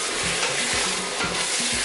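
Vegetarian sinigang simmers and sizzles in a pot, a steady bright hiss with low bubbling pulses repeating every half second or so, close and continuous with no talking.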